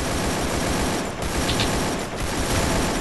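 Gunfire in the battle royale game Garena Free Fire, dense continuous automatic bursts filling the whole stretch at high loudness, with brief dips between volleys and no talk.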